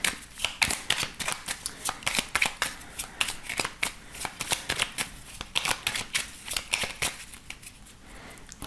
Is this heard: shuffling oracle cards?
yes